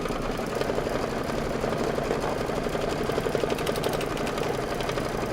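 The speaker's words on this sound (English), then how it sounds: "we're going to do the placement stitch for the next piece" Embroidery machine sewing a placement stitch for a quilted table topper, a steady, fast mechanical whirring hum that runs unbroken and close throughout.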